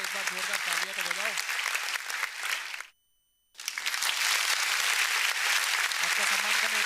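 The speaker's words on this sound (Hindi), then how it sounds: "एक बार जोरदार तालियां तो बजाओ।" Loud, dense crowd applause at a cricket league welcome ceremony, with a voice talking over it at the start and end and a brief cut to near silence in the middle.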